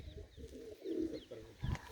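Pigeons kept in cages coo softly in a few low, rolling calls, faint and somewhat muffled, with a rustle and a soft thump near the end.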